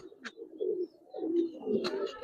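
Giribaz pigeons, big-headed birds kept in a loft, cooing softly nearby in low rolling coos repeated a few times, with a couple of brief higher chirps or rustles.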